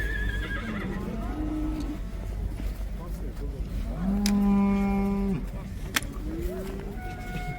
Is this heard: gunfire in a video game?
no